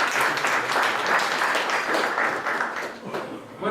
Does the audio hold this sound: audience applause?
yes